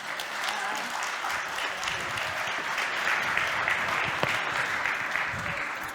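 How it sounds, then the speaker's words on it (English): An audience at the Velvet Innovation Conference 2023 gives warm, sustained applause, with dense, even clapping that fills the hall throughout. "so warm applause for Markéta!"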